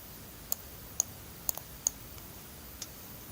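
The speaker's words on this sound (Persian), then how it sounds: "یک میزنم از روی کیبورد" Sparse computer keyboard key presses during a 3ds Max modelling session, a handful of faint, sharp clicks spaced irregularly across a quiet background with no talking.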